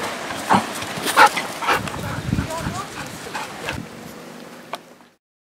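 Dogs bark and yip in short bursts nearby, mixed with whimpering, while a person talks over them; the noise fades out at the end.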